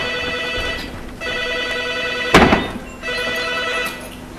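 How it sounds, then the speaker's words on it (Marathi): A telephone rings on stage during a Marathi play, with repeated electronic ring bursts separated by short pauses and a thump in the middle, loud and close. "तू माझं फोन आलाय बघा"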